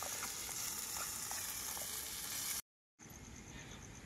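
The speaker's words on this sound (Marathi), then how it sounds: "बघा मित्रांनो फोडणीचा बघा कसा आवाज येते" Spices tempering in hot oil for a home-cooked Marathi dish give a steady, close crackling sizzle that continues unbroken, cuts out briefly, then resumes just as strongly.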